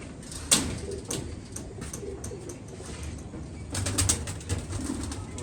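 Pet pigeons of a good flying breed, kept by a fancier, coo in soft low repeated calls. Occasional wing flutters and scuffling sound nearby, over a steady background murmur.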